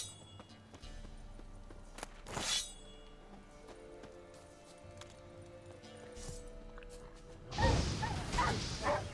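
A dog barks in the video game The Witcher, a loud burst near the start and a harsh, close scuffle of noise toward the end over steady ambient game sound.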